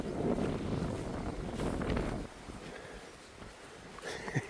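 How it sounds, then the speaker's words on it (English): Strong wind buffets the microphone in heavy rumbling gusts on the Appalachian Trail in North Carolina, easing off midway, then a few sharp bumps near the end. "But it's just way too windy."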